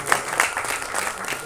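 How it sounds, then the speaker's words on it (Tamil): Dense, steady applause fills a hall at an album song screening festival, a brief burst of many hands clapping without pause. "ஒரு பெரிய கைத்தட்டல் கொடுத்துடலாம் ப்ளீஸ்"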